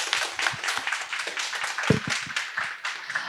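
An audience at a startup pitching event applauds, with scattered, fairly quiet hand claps forming a continuous patter throughout and no voices over it.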